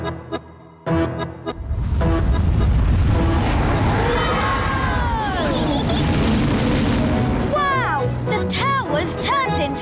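Cartoon rocket launching, a loud sustained roaring whoosh that builds after a few short knocks and carries on with whistling, sweeping tones and sparkly effects, with voices briefly heard.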